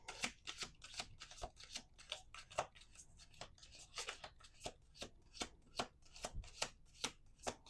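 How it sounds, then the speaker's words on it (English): Cards being shuffled close up, a rapid series of crisp riffling flicks and soft slaps in an uneven rhythm, quiet and without speech. "One more shuffle."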